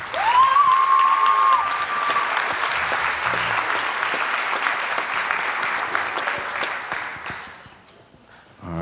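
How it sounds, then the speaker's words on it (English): Audience applause for a high school jazz band at a winter jazz concert, loud, sustained clapping from a full crowd for about seven seconds, with a brief whistle early on, fading to quiet at the end. "can we give one more round of applause for the High School Jazz Lab?"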